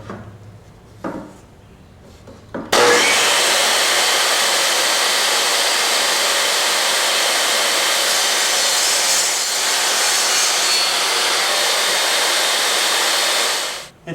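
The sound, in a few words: saw cutting multiple grooves across wooden bat house panel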